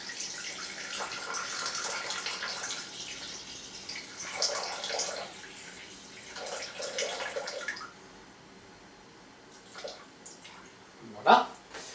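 Water pours into a Thermomix bowl for weighing while making bread. A soft, steady trickle runs for several seconds, then a few faint drips and a small clink, fairly quiet.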